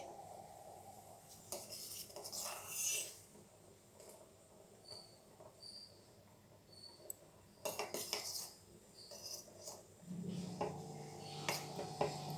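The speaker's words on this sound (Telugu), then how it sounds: "మధ్య మధ్యలో ఇలా స్పూన్తో మీరు తిప్పుతూ ఉండండి, లేదంటే గిన్నె కతుక్కుపోతాయి అన్నమాట." A spoon stirs boiling pasta in a pot, giving faint, intermittent metallic clinks and scrapes against a soft bubbling background, with no talking.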